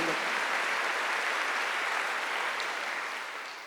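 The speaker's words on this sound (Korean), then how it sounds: "박수로 하지." A church congregation at a Wednesday worship service applauds together, a dense, steady clapping that fades slightly toward the end.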